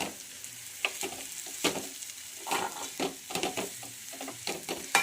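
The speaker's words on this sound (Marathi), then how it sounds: "आता याला छान पैकी असं परतून घ्यायचं आहे" Semolina sheera for fasting sautéed in ghee, a continuous close sizzle broken by repeated scraping and stirring strokes of a spoon against the pan.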